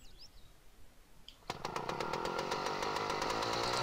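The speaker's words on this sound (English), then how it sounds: "Wow, it sounds like a chainsaw or something." A tracked vehicle mod in the MudRunner off-road game starts up with a sudden buzzing, chainsaw-like engine roar, steady and loud after a quiet lead-in with faint chirps.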